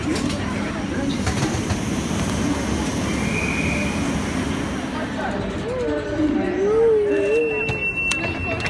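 A train at a busy railway station rumbles and its wheels squeal loudly and close by, with voices talking underneath.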